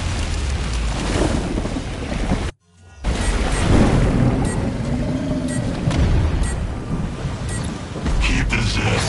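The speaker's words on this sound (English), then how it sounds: "I do not like rain." Heavy rain hisses steadily while deep thunder rumbles and booms, loud and close, with a brief dropout early on; a voice speaks over the storm in the video game Killing Floor 2.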